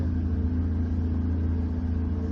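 A boat's inboard engine on the Norfolk Broads running steadily at 1500 revs, a constant low droning rumble close by with no talk over it.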